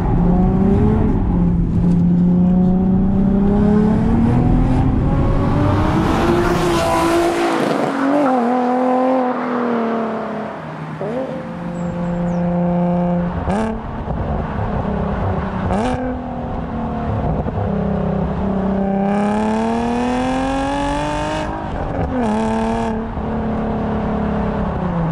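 A Nissan 370Z sports car revs hard through repeated gear changes, its engine note climbing and dropping in loud, close sweeps with brief lifts between pulls.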